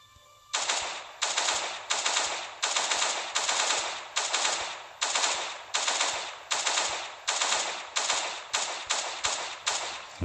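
A small turret machine gun fires in the Last Day on Earth video game, delivering a steady series of about fifteen sharp, evenly spaced bursts, loud and close, with no talking over them.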